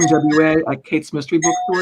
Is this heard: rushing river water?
no